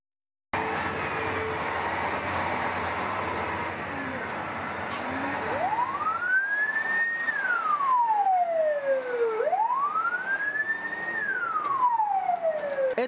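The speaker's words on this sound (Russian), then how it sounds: "Пожарная команда выезжает по тревоге, но тут же капитулирует." A wailing siren rises and falls in long sweeps over steady engine rumble, loud and fairly close.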